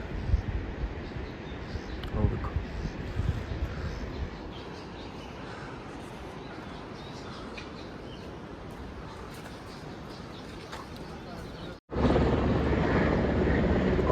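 A steady, droning helicopter rumble over mountains on the Hemkund Sahib route fills the air, loud and continuous, with a brief cut near the end before the noise returns even stronger.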